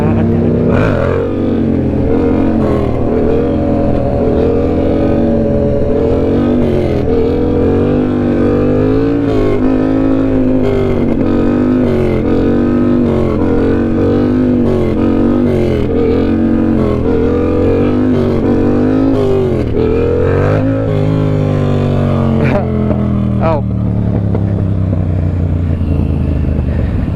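A motorcycle engine revs loud and close throughout a circle wheelie, the pitch repeatedly rising and falling as the throttle is worked, then dropping and easing off near the end.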